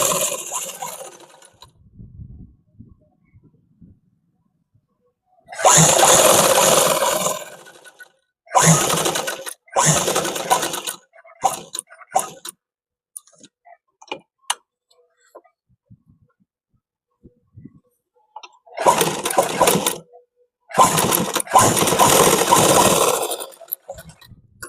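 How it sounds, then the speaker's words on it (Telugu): A sewing machine stitches a school shirt collar in several loud whirring bursts, each lasting a second or a few seconds, with quiet gaps and a person talking between them. "సో ఇలా మంచిగా కుట్టు వేసుకుంటూ వచ్చేయాలి."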